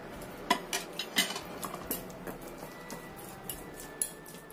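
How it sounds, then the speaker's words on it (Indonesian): Boiled potatoes are mashed in a bowl with a utensil, producing a string of irregular clinks and scraping knocks against the bowl, close and moderately loud, with no talking. "Ini aku taruh dalam mangkok. Kemudian kita becek-becek semuanya sampai halus."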